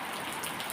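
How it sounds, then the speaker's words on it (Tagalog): Rain falls in a soft steady hiss with a dense patter of drops, faint and continuous over a brief moment, no talking. "Umuulan ngayon."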